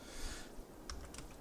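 Keys clicked on a computer keyboard while typing a city name during a city-building game, a few quick faint taps near the end over a low background hum.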